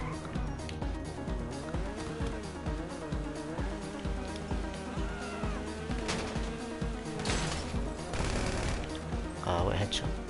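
Gunfire crackles in bursts through a GTA Online casino heist, set among busy game sound and music-like tones, with rapid shots rising toward the end.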